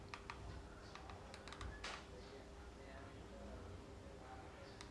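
Rapid typing clicks on an I8 mini wireless keyboard being tested with a TV, light plastic key taps in irregular bursts close by, over a low steady background hum.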